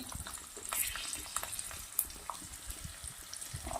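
Chopped onions go into hot oil already holding cumin seeds, garlic cloves and a piece of ginger for a Kathiyawadi green pigeon pea curry, giving a steady close sizzle and crackle with light stirring clinks and no talk.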